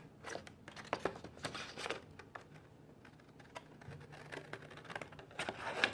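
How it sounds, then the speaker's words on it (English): New scissors snip through paper at a craft table in quick, crisp, close-up cuts that come in irregular bursts, with soft rustling between them. "And I'm using my new scissors that Pam sent me."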